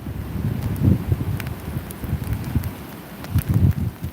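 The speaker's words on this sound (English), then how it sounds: "And that's the wind. Y'all hear the wind?" Wind gusts during a snow and ice storm, a steady low rumbling roar with buffeting swells, heavy on the microphone and loud throughout, with no talking.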